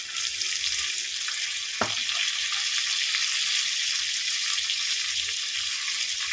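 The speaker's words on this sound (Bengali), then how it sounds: "আদা রসুন দিয়ে দেবো, ভালো করে এটাকে ভেজে নেব।" Ginger, garlic and tomato frying in a pan, a constant hissing sizzle with one brief knock of a utensil, heard close and steady throughout, no one speaking.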